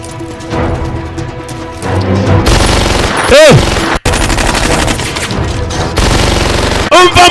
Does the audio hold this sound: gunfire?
yes